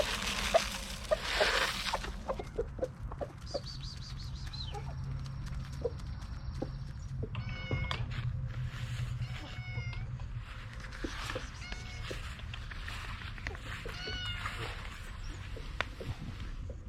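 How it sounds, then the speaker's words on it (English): Repeated meows from a feral cat in a garden, close and clear, several calls spread over a steady outdoor background with small clicks and rustles. "This is feral cat number 1."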